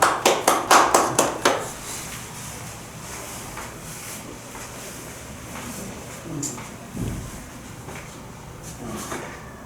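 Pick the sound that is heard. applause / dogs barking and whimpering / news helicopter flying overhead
applause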